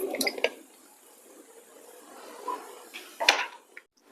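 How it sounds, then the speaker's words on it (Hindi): Amla, Indian gooseberries, being washed in a bowl of water, with soft splashes, drips and a few clinks against the bowl, plus a sharper slosh near the end, close up with no talking. "आंवले को धुलकर साफ कर लेते हैं पानी में।"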